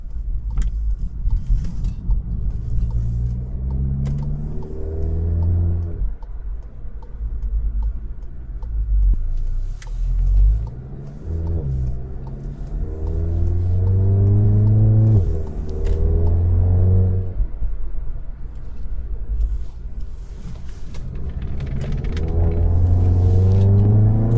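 A modified 2016 Volkswagen GTI MK7 accelerates on the road in standard automatic mode through repeated gear changes, the engine note climbing and dropping in waves over a steady low rumble.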